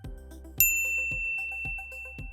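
A bright notification bell dings once, sharp and loud, then rings on with a long sustained tone over a steady, rhythmic music bed with regular thumping beats.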